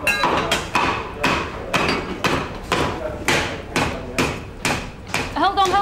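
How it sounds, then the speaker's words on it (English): A hammer whacks a hard coconut set on a solid surface, about a dozen sharp, loud thuds landing in an uneven rhythm, with brief speech near the end. "You need to whack it with a hammer."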